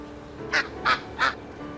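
Three nasal quacks in an even rhythm, close and clear over a quiet background; they may be a voice imitating a duck.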